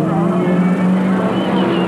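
V8 Toyota race car engines in a 1997 Super Series race roar in a loud, sustained drone with a steady high-revving pitch, as if heard from trackside.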